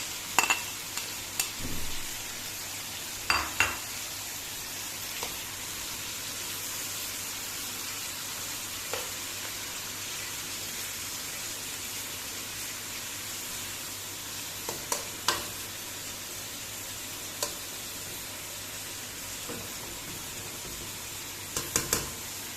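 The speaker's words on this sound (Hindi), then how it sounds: "इसको भी हम साथ ही इसमें फ्राई कर लेंगे" Finely chopped onions frying in a pot for Uzbek pulao give off a low, steady sizzle, with a few sharp clinks of a spoon against the pot scattered throughout and no talking.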